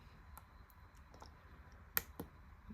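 Soft, quiet clicks of a button being pressed during a game demo, scattered sparsely over a low background hiss, with two slightly sharper clicks close together near the end.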